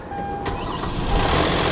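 A RAM 3500 dually pickup with about 114,000 miles cranks and catches at an auction, its broadband engine noise swelling steadily and holding loud and close, with a faint beeping tone early on.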